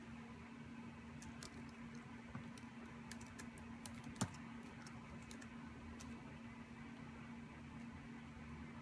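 Typing on a computer keyboard, heard as faint, irregular soft key clicks over a low steady hum, quiet and close, with no voices.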